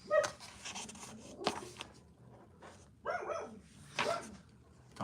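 Dogs barking in several rough, uneven bursts at moderate distance, with quieter gaps between the barks.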